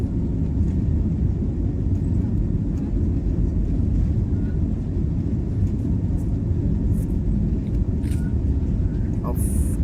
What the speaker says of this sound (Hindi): अब सीधे अब टेकअप करने वाले हैं भाई